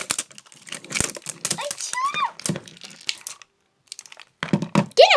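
Crinkling and tearing of plastic packaging as a Blume doll box is opened, in irregular bursts with a short pause midway, over someone speaking.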